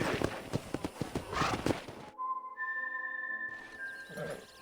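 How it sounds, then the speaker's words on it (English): Horses clip-clop with a brisk rhythm of hoofbeats in the Red Dead Redemption video game, loud and close, then cut to a sustained tonal whistle-like sound with a whinny-like call at the end. "We got some fine horses."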